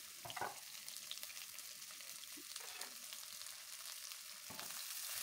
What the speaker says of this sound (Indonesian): Kita panaskan sedikit minyak, lalu masukkan bawang putih dan bawang merah irisnya.